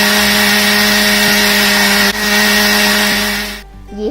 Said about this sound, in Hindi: अब हम इन सब मसालों को मिक्सर ग्राइंडर में बारीक पीस लेंगे